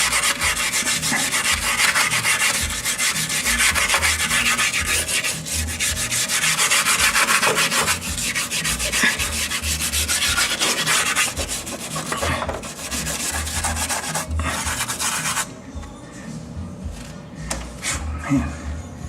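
Wheel wells of a BMW E46 M3 are scrubbed with steady, close, rasping brush strokes that continue for the whole stretch, softening briefly near the end.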